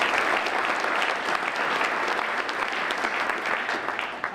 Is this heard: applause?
yes